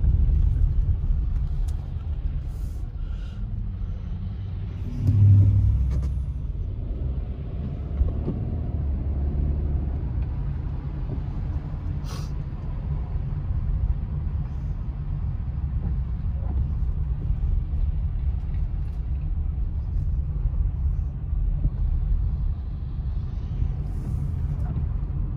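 A car idles and creeps in backed-up traffic on the way to snowy Big Bear, California, a low continuous rumble from inside with a brief louder swell early on.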